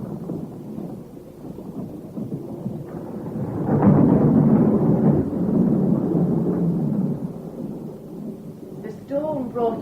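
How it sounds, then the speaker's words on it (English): Thunderstorm sound effect in a radio drama: a heavy, loud rolling rumble of thunder over steady rain that swells in the middle and lingers, with a voice briefly heard near the end. "The storm brought you to us swiftly, my lord."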